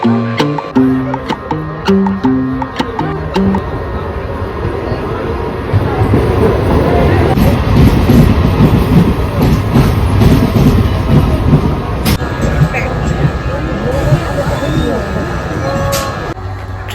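A train pulls into a busy railway station platform in Murshidabad, its rumble and clatter swelling loudly through the middle and lingering to the end, with people's voices around.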